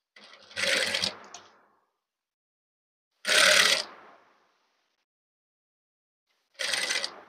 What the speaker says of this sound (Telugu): రౌండ్ గా స్టిచ్ చేసుకోవాలి